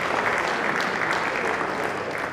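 Sustained, dense applause from a conference audience at an annual international engineering conference in Ilorin, a continuous roomful of clapping that stays loud and even throughout.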